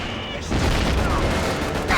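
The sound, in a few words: gunfire from a video game (Call of Duty: Finest Hour)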